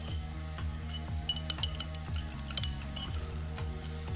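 Zucchini, yellow pepper, red onion, mushrooms and Kalamata olives sauté in a pan, giving a soft, steady sizzle with occasional sharp clinks of a utensil against the pan over a low, steady hum.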